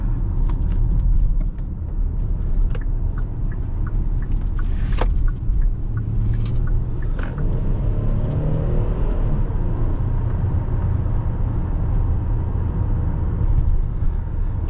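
A 2023 Hyundai Palisade XRT with its 3.8 V6 engine on a test drive, a steady low engine rumble and road noise from inside the cabin, continuous and fairly loud with a few faint ticks and knocks over the top.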